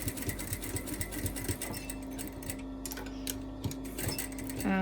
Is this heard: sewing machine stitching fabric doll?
yes